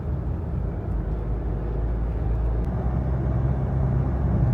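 A Mitsubishi Pajero's 4M40 2.8-litre diesel engine drones steadily while driving, a close, continuous low rumble with road noise that swells slightly toward the end, with no talk.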